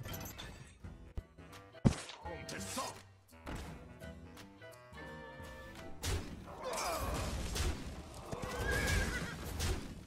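A horse neighs in the Hearthstone card game among clattering game effects, thwacks and impact sounds, with a sharp hit early on and busier effects toward the end.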